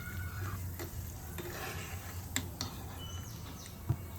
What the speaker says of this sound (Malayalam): അതിനുശേഷം കുറച്ച് അണ്ടിപ്പരിപ്പ് ചേർത്ത് വറുത്തെടുക്കണം.